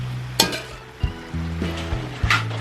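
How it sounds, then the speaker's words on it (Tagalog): Squid and vegetables for a spicy Korean-style dish sizzle in a pan while being stirred, with an even frying hiss broken by several knocks and scrapes of the utensil. "Tapos hahaluin lang mabuti para po maluto ang ating gulay at saka ang pusit."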